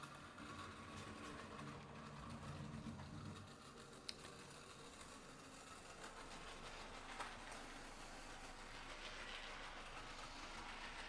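Tillig model railway track-cleaning wagon running along the track: a quiet, continuous rolling and scraping hum with a few faint clicks as it passes over the rails.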